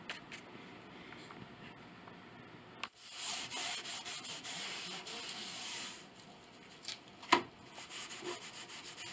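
Wooden parts for the soundboard of an 1881 Steinway Model A grand piano are sanded by hand, giving a soft steady rubbing hiss with a few brief knocks, quiet and close.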